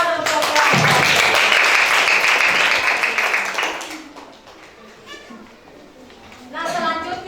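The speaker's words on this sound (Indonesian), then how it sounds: "Tepuk tangan untuk kelompok." Classroom applause for a student group, a burst of children's clapping with excited voices mixed in for a few seconds, then fading into quieter room sounds and talk.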